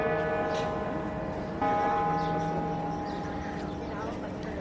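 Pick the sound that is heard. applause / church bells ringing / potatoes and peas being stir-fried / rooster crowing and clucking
church bells ringing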